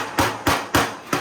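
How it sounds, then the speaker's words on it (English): A hammer strikes the flange of a Ford Model A decklid skin while it is bent over during reskinning, four sharp metallic blows at a steady rhythm, close and loud with no talk. "And then you start, just use your hammer"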